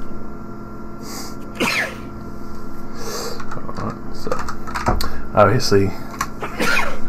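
Two sneezes from a person at a tabletop role-playing game session, sharp bursts with a short gap between them, heard among ongoing conversation.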